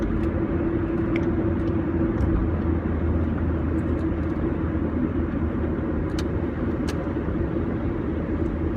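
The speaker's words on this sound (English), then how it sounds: "there's a buttload of traffic out here right now" Continuous road traffic passes outdoors, a steady loud broadband rumble of cars with no pauses, and no talk over it.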